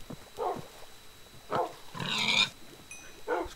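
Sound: pig oinking in video game Minecraft

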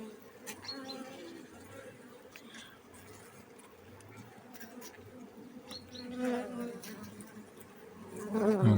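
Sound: honeybees buzzing around a hive

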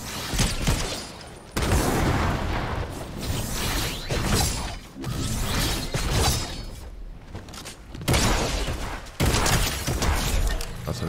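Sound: Barrett sniper rifle shots in a video game

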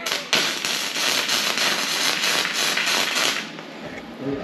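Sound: tack welding a steel shed

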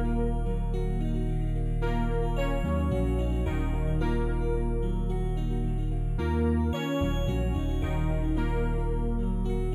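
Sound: dark guitar sample with vintage Prophet synth in FL Studio

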